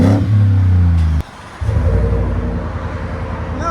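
A Ford F-150 pickup fitted with a Flowmaster Super 10 exhaust and a 5-inch tip revs loudly and close, cuts out abruptly for a moment, then returns to a deep, steady rumble.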